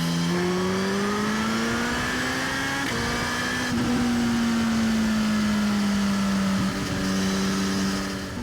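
A powerful Suzuki GSX-R 1000 motorcycle engine revs loudly and continuously nearby, its pitch rising and falling with the throttle.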